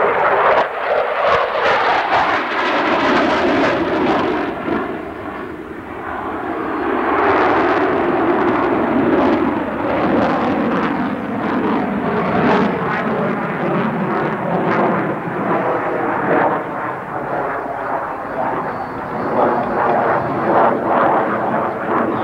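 An F-16 fighter jet at the 1992 Westover airshow roars on afterburner through a tight spiral climb. A loud, continuous, rushing roar swells and holds for over twenty seconds, with no voices.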